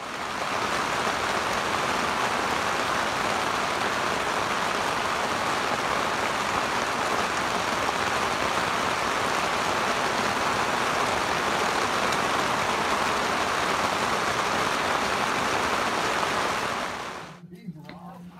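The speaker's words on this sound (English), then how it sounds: "It started to rain about 6 o'clock in the afternoon and continued to rain off and on" Steady rain pours down at a state park pavilion in Cumberland Mountain State Park, Tennessee, a dense, even hiss lasting nearly the whole stretch before cutting off abruptly near the end.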